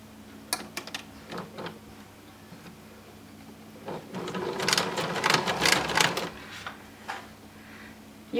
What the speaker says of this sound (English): all we're going to do is stitch from here to here